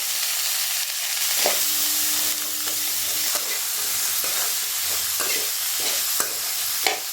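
Cauliflower with turmeric powder sautés in a pan with a broad steady sizzle, punctuated by regular scraping strokes of a spoon, close up and without any voices.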